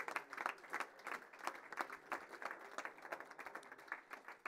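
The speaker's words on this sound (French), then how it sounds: "Et ils repartent à leur place sous les applaudissements des partenaires et des invités du district d'Alsace de football." Applause from partners and guests at the Alsace football district awards ceremony, a steady patter of hand claps filling the room at moderate distance with no speech over it.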